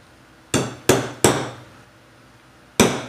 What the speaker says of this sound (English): I'm going to make an impression on each side with this awl.